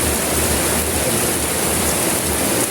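Heavy rain pours down at a work site in a dense, steady hiss, loud and unbroken throughout.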